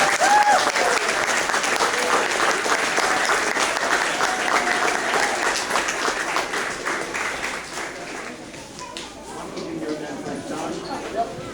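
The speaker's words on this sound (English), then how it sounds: "All right, let's give a big round of applause to them 11." An audience applauds Cub Scouts at a pack graduation and awards ceremony, steady loud clapping that slowly thins out, with some voices in the room near the end.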